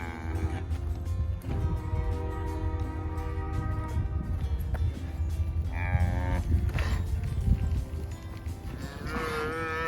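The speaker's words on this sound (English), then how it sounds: "Here's our cow and calf." On a farm, a cow and her calf moo back and forth as they try to find each other. The calls are loud, drawn-out and overlap one another, with a steady low rumble underneath.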